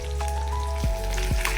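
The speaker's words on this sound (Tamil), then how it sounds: "வெங்காயம், தக்காளி, பூண்டு எல்லாம் வதங்கிட்டு இருக்கு." Onions, tomatoes and garlic sauté in a pan for a Tamil village lunch of karuvadu thokku, a steady close sizzle and crackle running throughout with a couple of brief clinks.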